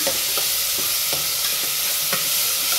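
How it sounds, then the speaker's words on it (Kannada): Tomatoes sizzle and fry in a hot pan for tomato rice bath, a steady loud hiss broken by soft periodic scrapes of a spoon stirring, close up with no talking. "ಟೊಮೊಟೊ ಹಾಕ್ತಾ ಇದ್ದೀನಿ"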